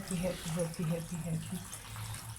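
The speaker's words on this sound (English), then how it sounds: "The small drip that escapes through is still also falling inside" Water trickles and drips into a homemade DIY fountain, a soft continuous splashing wash beneath a person talking nearby.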